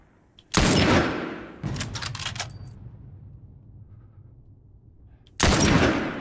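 Gunshots in The Last of Us: a single loud, close blast, then a short burst of rapid shots with a faint ringing tail, and one more loud shot near the end.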